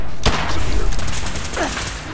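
Handgun fire in the video game Fallout 4: a loud close shot cracks near the start, followed by dense rumbling combat noise.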